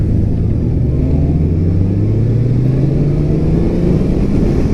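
A 2018 Honda Goldwing motorcycle engine on light throttle, giving a loud, smooth, continuous low rumble that rises gently in pitch, heard close with no voices.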